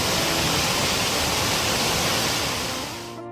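A clear river flowing through forest gives a steady, full rushing wash of water with no pauses, close and even, fading away right at the end.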